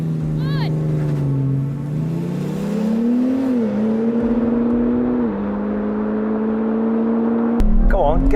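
A diesel car fitted with nitrous, running a poor tune, drones steadily as the engine climbs onto boost, its pitch slowly rising and dipping through gear changes, loud and close, with a sudden jolt near the end.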